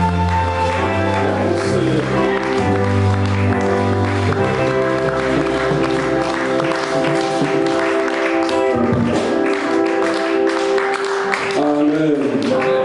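A congregation at a church service applauds and cheers in a loud, continuous wash of clapping, with music and voices blending in throughout.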